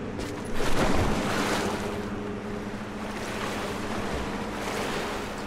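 Water and waves wash steadily in the video game Rise of the Tomb Raider, a continuous rushing surf close by with a swell near the start, with no voices over it.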